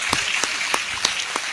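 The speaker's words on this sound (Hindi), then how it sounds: "एक बार ताली बजाइए" An audience at a patriotic Hindi poetry recital gives a brief round of applause, a few distinct spaced claps standing out over a soft wash of clapping.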